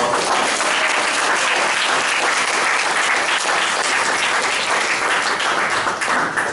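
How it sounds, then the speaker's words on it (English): Audience applause for guests at a Toastmasters club meeting: steady, dense clapping from a roomful of people, loud and sustained throughout without a break. "these guests deserve a big round of applause"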